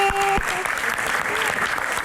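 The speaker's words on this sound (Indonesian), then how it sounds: "Halo, tepuk tangan untuk Mbak Arumi." Studio audience applause on a political talk show, a brief burst of dense clapping that carries on steadily for about two seconds, with a tone sounding at the start.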